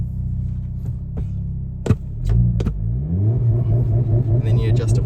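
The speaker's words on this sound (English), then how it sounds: "put your foot on the brake and give your accelerator a quick wee stab. Comes up with launch control ready" Hyundai Kona N engine with launch control engaged: a low idle rumble, a few sharp clicks, then the revs climb and hold at a raised, throbbing pitch close to the microphone.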